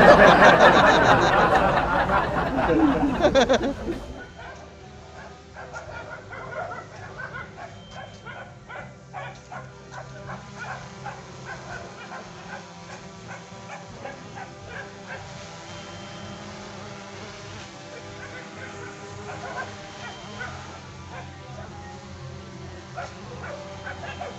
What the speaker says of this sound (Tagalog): Takbo yung mga aso.